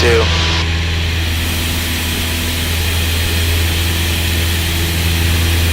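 Steady, loud drone of a Cessna 172N's propeller engine in flight climbing through 500 feet on crosswind, with a strong low hum and a brief burst of noise at the start, continuous throughout.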